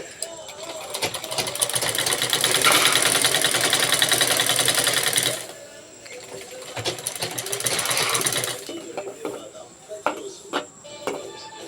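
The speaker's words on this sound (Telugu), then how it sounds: "బ్లౌజ్ అయితే కుట్టేసుకుంటున్నానండి. ముందైతే బ్యాక్ పార్ట్ అదుకున్నాను లైనింగ్." A sewing machine stitches a blouse lining in a long loud whirring run, pauses, then runs again more briefly, with someone talking over and between the bursts.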